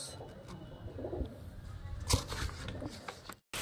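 Highflyer Giribaz pigeons being packed for delivery give soft, low cooing calls close by, with a few light handling knocks and a sharp thump near the middle.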